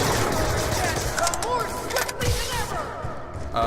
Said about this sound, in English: Spam some bullets.